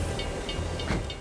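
A train rolls along in Borderlands with a steady low rumble and a faint rhythmic clatter, a soft hiss rising briefly near the end; no voices.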